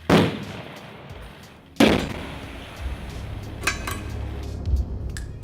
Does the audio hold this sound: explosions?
yes